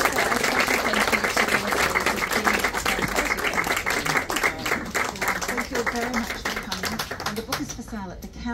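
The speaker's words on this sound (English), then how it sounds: "One more round of applause for Wayne" An audience at a book launch in a bookshop applauds in a dense, sustained round of clapping that stays loud and even throughout, then thins toward the end.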